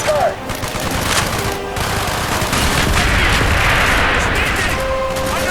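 Mortar fire and heavy gunfire in Call of Duty: Black Ops fill a dense, continuous battle roar with overlapping blasts and shots, loud throughout, with shouting voices mixed in.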